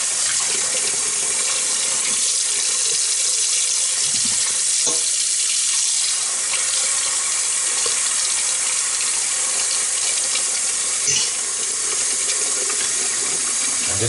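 Cold tap water runs steadily into a sink while pork belly is cleaned, a loud continuous hiss and splash with faint handling bumps underneath.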